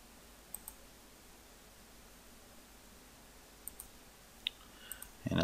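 A computer mouse clicks a few times, sparse and soft, in a quiet room during work in SharePoint Reporting Services, with a single click, a short cluster, then a couple more near the end.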